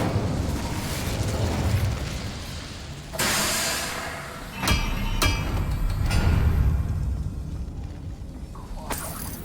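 An Incendio fire spell is cast in Hogwarts Legacy, a loud whooshing burst of flame with sharp impacts, rolling over dense, roaring game ambience.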